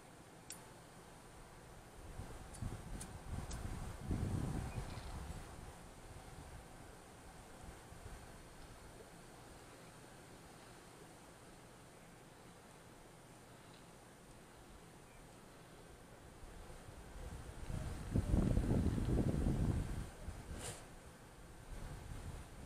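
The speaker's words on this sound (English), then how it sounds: "Come on, wind, we don't need ya." Gusty wind blowing outdoors at night, low rumbling microphone buffeting that swells in two stronger bursts around the middle and near the end, with a steady soft background roar between.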